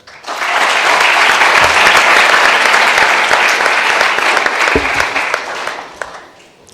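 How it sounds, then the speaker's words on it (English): An audience at a Model United Nations opening ceremony applauds an organizer, with dense, loud clapping from a large crowd that swells quickly, holds steady for several seconds and then tapers off. "An applause for Matteo Baricchio."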